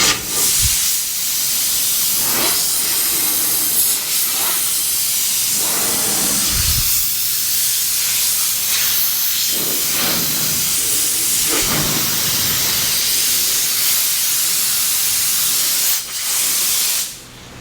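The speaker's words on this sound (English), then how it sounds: "I know it's annoying hearing this blower" An air blower blasts dust off a 1952 Chevy in a shop, a loud continuous hiss that surges and dips in several bursts before cutting off near the end, with no voices.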